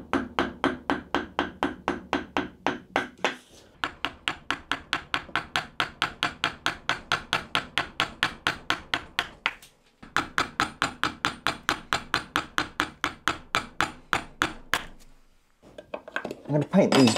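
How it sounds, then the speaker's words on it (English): A small hand gouge cutting a channel in wood for a cable, a long run of sharp, rapid, evenly spaced tapping strikes, close and loud, with two brief pauses. "So I've got a little gouge, and I'm just going to cut a little channel for the cable to thread through."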